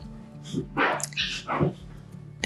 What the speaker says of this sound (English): Disregard my dog.